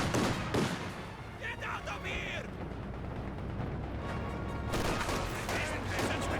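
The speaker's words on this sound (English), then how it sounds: "Conscript SVTs firing away, hitting these squads" Rifle fire from Soviet conscript squads with SVT rifles in a Company of Heroes 2 battle: repeated sharp shots and crackling gunfire through a dense, constant wash of battle noise, with voices underneath.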